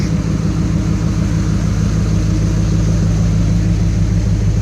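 Loud, raw engine rumble of a 1980 Dodge D150 truck with no exhaust fitted, at steady idle, a harsh throbbing drone without muffling, close and continuous throughout.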